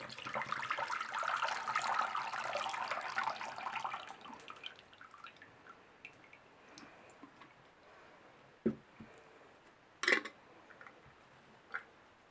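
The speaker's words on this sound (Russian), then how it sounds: "прикрываем крышкой и сливаем воду" Water poured off from warm glass jars of green tomatoes under their lids: a steady gush of running water for a few seconds that dies away, followed by a few sharp clinks and drips.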